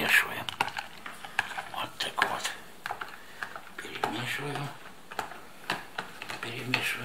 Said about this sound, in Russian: вот по всему контейнеру и перемешиваем